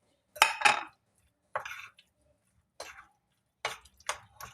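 Spoon clinking and scraping in a bowl while chicken marinade is stirred for chicken tikka pizza, four or five short separate bursts of clatter with quiet gaps between, close and fairly faint.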